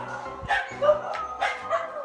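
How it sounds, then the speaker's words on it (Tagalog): Several dog barks and yips, fairly close, coming in short bursts over a low steady hum. "Yung aso."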